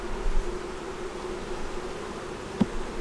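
Honey bees drone steadily around an open hive with frames of honey and comb, a close, continuous buzz with one brief louder pass near the end.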